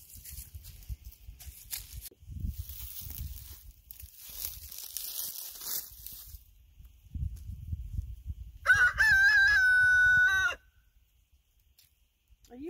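A rooster on a farm crows once, loud and close, in a long drawn-out call that follows quieter scuffling and movement.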